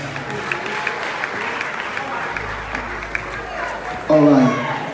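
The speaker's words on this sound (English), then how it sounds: "Come on, let's clap our hands, everyone." An audience at a church-style gathering claps in a broad, continuous wash, with a brief louder burst of voice and tonal sound near the end.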